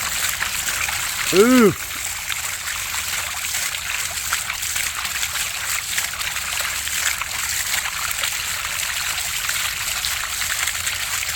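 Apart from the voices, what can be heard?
dirty water gushing from 150-foot deep well pipe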